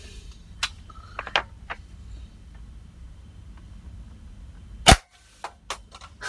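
A spring-powered blaster with a higher-power spring is fired at a close target, giving several sharp, isolated snaps spaced over a few seconds, with one louder crack near the end.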